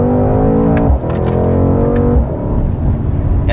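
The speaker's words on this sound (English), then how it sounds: "That exhaust sounds freaking phenomenal." A Mercedes-AMG C63s sedan's V8 exhaust revs loud and close, a throaty roar rising in pitch, briefly dropping off and then swelling again.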